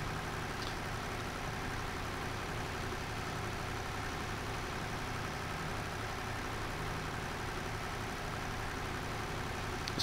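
A tractor engine drones steadily under load while pulling in the farming game Farming Simulator 2013, a constant low mechanical hum that never lets up, with no voices.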